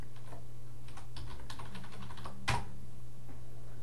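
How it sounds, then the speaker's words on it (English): Keys tapped on the keyboard of a Linx 1010B Windows 10 tablet while a password is entered, a short run of light, quick clicks, close and fairly faint, with one sharper knock partway through and no talking. "let me just type it in."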